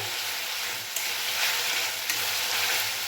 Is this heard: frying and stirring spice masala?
yes